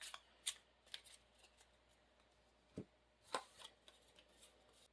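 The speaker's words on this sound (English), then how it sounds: "Shuffle my deck." Quiet riffle and flicks of a Marvel Champions card game deck being shuffled, scattered soft snaps and one low thump, close up and faint.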